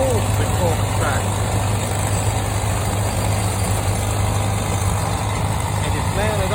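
Old McCormick tractor engine running with a steady low, heavy idling rumble that holds at the same level throughout, close and continuous with no talk over it.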